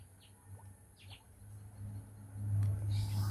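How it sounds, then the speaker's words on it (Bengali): A sparrow sings from a tree branch on a rural Bangladesh autumn morning, giving a few faint, brief chirps over a steady low rumble that grows louder toward the end. "চড়ুই পাখি গান গাইছে গাছের ডালে বসে"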